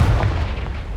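A Confringo blasting spell goes off in Hogwarts Legacy, a deep booming burst with heavy low rumble that fills the whole second, close and loud, with no talk over it.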